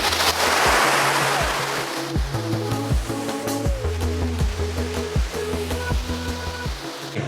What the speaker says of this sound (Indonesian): mari kita nikmati saja terlebih dahulu air terjun Ranggasan ini